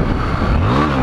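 A Honda XRE 300 motorcycle engine revving hard as it struggles uphill, loud and close, the pitch rising steadily through one short burst.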